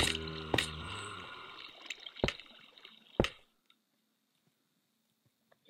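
Water sounds in Minecraft Survival: a few sharp splashy clicks and drips over a fading watery wash, then near-silence with faint scattered ticks.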